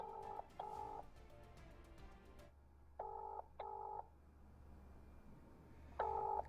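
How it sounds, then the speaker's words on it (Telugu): A phone call rings back with a repeated two-part electronic tone, pairs of short beeps separated by pauses, heard clearly and alone with faint background hiss. "రింగ్ అవుతుంది"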